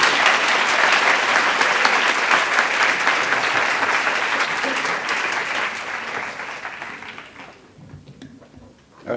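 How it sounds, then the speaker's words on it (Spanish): An audience at a psychiatry conference on depression and suicide in Nuevo León applauds to welcome a doctor to the stage. The applause is full and sustained, then dies away over the last couple of seconds. "Démosle un fuerte aplauso"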